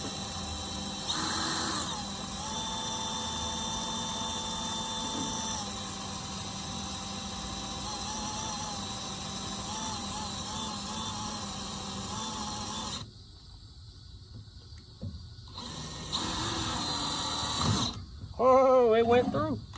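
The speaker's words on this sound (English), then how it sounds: "I'm gonna now kind of drill a hole in the backside to make sure that there's nothing left in there" A power drill runs steadily for a long stretch while boring through an old Briggs gas tank during a minibike rebuild. It cuts off abruptly, followed by a few short clattering handling noises and a voice near the end.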